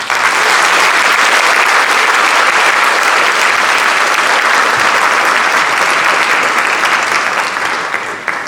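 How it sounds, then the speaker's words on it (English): Sustained audience applause at a high school jazz band benefit concert, dense and loud clapping from a full crowd that holds steady for several seconds before easing off at the end. "I got one more round of applause."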